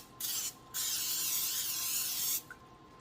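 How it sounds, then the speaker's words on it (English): Cooking spray hisses into a 9 by 13 baking pan in two bursts, a short spray followed by a longer steady one, close and fairly quiet. "Let's spray, especially the sides,"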